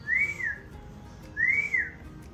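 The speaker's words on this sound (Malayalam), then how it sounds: "Magpie Robin." A black-and-white magpie robin sings two clear, arching whistled notes about a second apart, each bright and rising then falling, heard close over a low, steady background hum.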